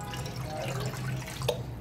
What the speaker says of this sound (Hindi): यहाँ पे मैंने लिया है पैन, इसके अंदर मैं ऐड करूँगी पानी